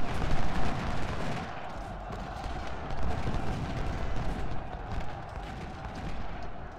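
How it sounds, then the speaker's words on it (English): Musket volleys and massed rifle fire rumble through a Civil War battle in the video game Ultimate General: Civil War, a dense, continuous crackle of distant gunfire with no clear pauses. "Fire a volley at them."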